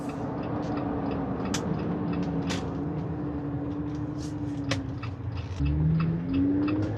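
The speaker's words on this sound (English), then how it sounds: "It has an AFE intake on it. It sounds really good." A Jeep Gladiator Rubicon engine fitted with an AFE intake, a steady low rumble and hum heard from inside while driving, rising in pitch as it accelerates near the end, with faint clicks and creaks.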